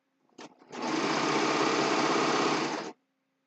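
A sewing machine stitches a pillowcase in one steady, loud, close run of about two seconds after a brief start blip, then stops sharply with no talk.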